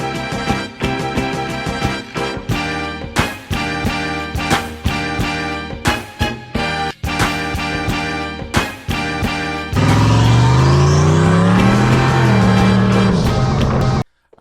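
A Coyote-swapped Mustang with a 4R70W transmission idles loudly nearby with a rattle, broken by sharp gaps, then the engine revs up and climbs steadily in pitch before cutting off abruptly.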